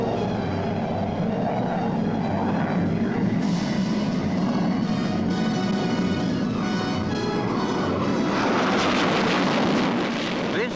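RAF Hawker Hunter jets of the Black Arrows fly a loop in wineglass formation, giving a continuous, distant roaring rush of jet noise that grows harsher and brighter near the end.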